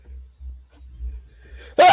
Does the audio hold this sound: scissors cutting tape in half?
no